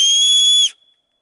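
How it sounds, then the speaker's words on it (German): A signal whistle built into a survival armband gives one loud, piercing, steady blast lasting about two thirds of a second, then cuts off abruptly into silence. "ist die Signalpfeife."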